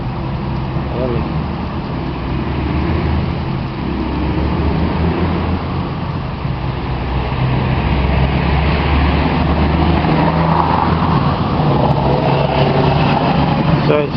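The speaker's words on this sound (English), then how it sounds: "There's a lot of traffic behind me." Steady road traffic on a country road, cars and trucks passing close by with a continuous loud engine and tyre rumble that swells and fades, while a person talks over it.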